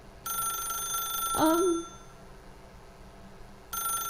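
A telephone rings in The Stanley Parable, a bright electronic trill that sounds for about a second and a half, stops for a moment, then starts again at the end.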